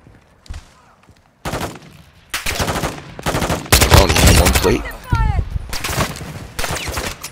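Bursts of automatic gunfire in Call of Duty: Modern Warfare II, loud rapid volleys in several clusters, with players talking between and over the shots.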